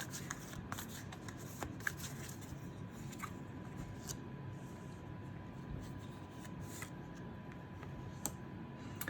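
Tarot cards shuffled and drawn by hand, soft papery riffles and light flicks with brief ticks of cards being laid down, fairly faint over a steady low room hum, no talking.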